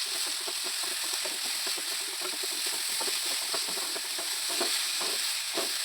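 Curry leaves, coriander leaves and Kashmiri chili powder fry in hot oil for a Kerala-style egg gravy, giving a steady loud sizzle throughout. A spoon scrapes and stirs the pan in irregular clicks over the sizzle, with no talk.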